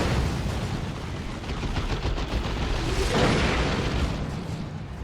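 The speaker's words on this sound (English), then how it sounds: "You see and hear that Las Cannon doing work now." Lascannon weapons firing amid a real-time strategy battle in Dawn of War 2, Ordo Malleus against Orks, a dense, continuous rumble of shots and explosions, loud and steady with a swell partway through.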